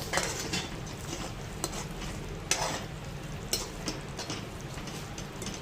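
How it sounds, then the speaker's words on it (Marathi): A pan of egg curry bubbles and sizzles softly on the stove, with occasional clinks and scrapes of a spoon against the metal. "ही अंडी अशी टाकून घेऊया आणि 1-2 मिनटासाठी आपण अशीच उकळत ठेवूया"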